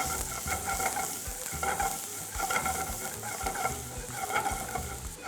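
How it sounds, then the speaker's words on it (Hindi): Chili and garlic fry in hot oil in a heated pan, giving a steady close crackling sizzle with intermittent stirring scrapes, and no voices over it. "अब इसमें डाला जाए oil, then goes the chilli, then goes garlic"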